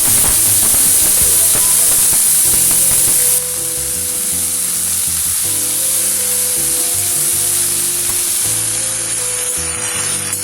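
Chopped dhenki (fern) greens hit hot oil for a North Bengal style fry, giving a loud, dense, steady sizzle with a sharp hiss that eases slightly after a few seconds and continues throughout.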